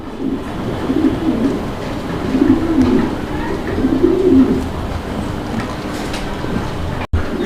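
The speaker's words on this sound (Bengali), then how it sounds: "আমরা এই মুহূর্তে দেখতে পাচ্ছি এখানে আরো একজোড়া কবুতরের কালেকশন আছে এটা শৌখিন কবুতর" Fancy pigeons for sale at a pigeon market coo softly in repeated, rolling phrases over a steady background hum. The calls are moderately close and there is no talk.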